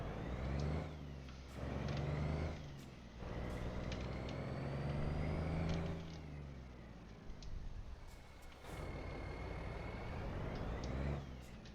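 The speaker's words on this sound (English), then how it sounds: "I'll turn the truck around" A truck in American Truck Simulator maneuvering to turn around, engine droning and rising and falling with revs, punctuated by short hissing air-brake bursts, fairly faint and with no talking.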